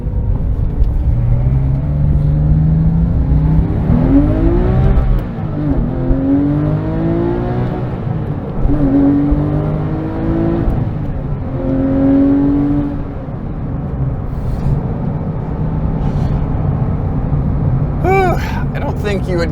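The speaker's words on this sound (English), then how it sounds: "listening to that exhaust, listening to that intake make noise" A Porsche 911 (997) GT3 RS engine revs and shifts through gears with a throaty exhaust growl and intake whine, steady and close, with someone talking over it.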